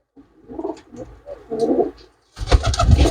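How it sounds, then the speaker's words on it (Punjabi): Flying pigeons kept for sale coo in a few soft, throaty bursts, close by, followed by a louder stretch of cooing over low rumbling and shuffling near the end. "ਇਹ ਸਾਰੇ ਸਾਰੇ ਉੱਡਣ ਵਾਲੇ ਕਬੂਤਰ ਆ ਬਈ"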